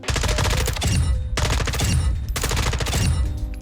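Automatic weapon fire from a recoil test in Modern Warfare 2, heard as three long, loud, rapid bursts close up with brief gaps between them and no speech.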